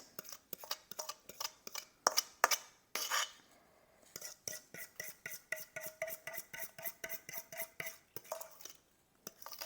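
Wet and dry banana batter ingredients mixed by hand in a bowl, a close, rapid series of scraping, clinking strokes of a utensil against the bowl with a brief pause midway, no talk.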